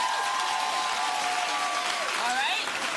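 A television studio audience claps in a dense, continuous burst, loud and close, with a voice speaking over it as the applause carries on.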